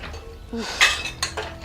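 Metal utensils and dishes are washed and scrubbed by hand, with sharp clinks and clatters of metal vessels knocking together in short close bursts.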